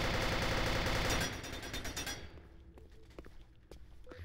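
Rapid machine-gun fire crackles in a multiplayer shooter match for about a second, then gives way to scattered footsteps and small clinks.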